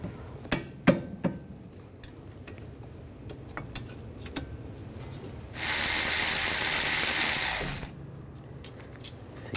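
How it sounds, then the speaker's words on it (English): A 14mm socket ratchet loosens rear brake caliper bolts on a 2013-2016 Dodge Dart, with a few sharp clicks and clanks near the start and then a loud, steady burst of high rapid ratcheting lasting about two seconds. "Using a 14mm socket, loosen up the caliper bolts."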